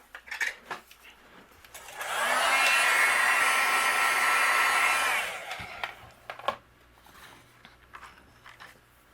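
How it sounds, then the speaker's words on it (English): A heat gun melts gold embossing powder on a stamped card, a loud, steady blowing roar lasting about three seconds, with soft handling and tapping noises before and after. "I'm going to use my heat gun and we'll melt everything"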